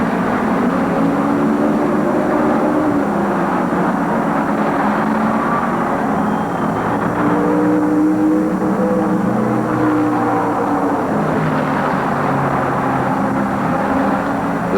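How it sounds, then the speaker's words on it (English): Open-wheel race cars at the 1972 Michigan 200, including car 24 leading the field out of the fourth turn for the green flag, produce a loud, continuous engine roar with shifting, overlapping drones as several cars pass. "Johncock in car 24 leads them out of the fourth turn for the green flag,"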